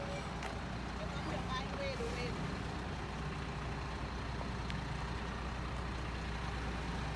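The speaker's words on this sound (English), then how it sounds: "These trucks are carrying construction material into the construction zone" Heavy trucks hauling construction material roll past into a construction zone along a new highway, a steady low engine rumble and road noise filling the whole stretch, with an occasional air-brake hiss.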